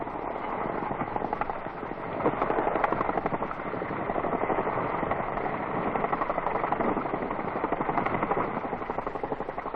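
A Chinook helicopter drones steadily nearby, its rotor thudding in a rapid, continuous rhythm with no other sound.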